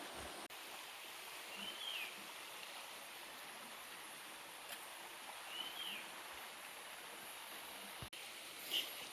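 A forest stream flows in a steady, soft rush through a quiet morning setting, with brief faint bird chirps above the water and no talk.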